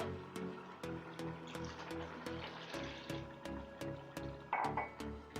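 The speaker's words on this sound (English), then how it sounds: "add in more water and let the chicken cook" Water is poured into a cooking pot of chicken coated in ground spices, giving a gentle filling and trickling sound with small splashes and clinks, close by and unaccompanied by talk.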